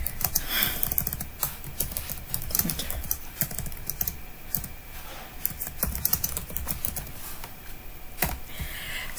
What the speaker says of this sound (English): we're going to type anything, something in